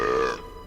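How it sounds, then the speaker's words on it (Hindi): A short, close, loud burp from an old monkey character in a comedy film, a single throaty belch that fades out within a fraction of a second. "इसका डकार तो पादर के पात से भी गंदा है"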